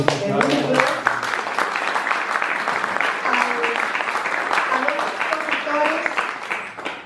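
An audience at a book presentation applauds author Carlos Calero, a steady round of clapping with murmured voices and talk mixed in beneath it.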